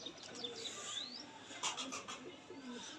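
Pigeons coo in soft, low, rolling calls, with a few chirps and wing flutters mixed in. The calls are close and continue through a light background hiss.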